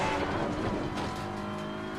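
Race cars in Assetto Corsa Competizione roar past at close range, a dense, loud engine drone with a high-revving whine sustained throughout, no talk over it.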